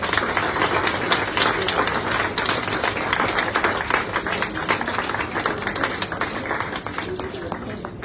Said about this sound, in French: Je vous propose de les applaudir à tous.